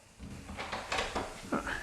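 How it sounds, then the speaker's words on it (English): Cupboard doors are pulled open in a lakeside bungalow under remodel, giving several quick, fairly close knocks and wooden clatters in succession with no talking. "You open up all the doors."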